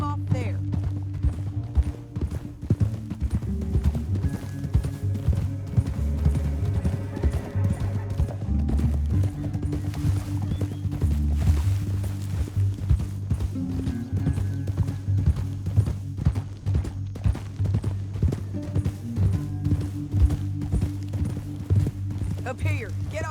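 Horse hooves clip-clop in steady rhythm while riding through a canyon in Red Dead Redemption 2, with an occasional whinny and a musical score underneath. Voices talk intermittently over the galloping.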